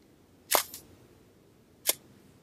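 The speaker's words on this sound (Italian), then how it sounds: "procedo col primo scatto, quindi F11 un ottavo di secondo" A Hasselblad medium-format camera fires its shutter set to f/11 at one-eighth of a second: a crisp mechanical snap with a short follow-on clack, then a second sharp click a moment later, close and clear in a quiet room.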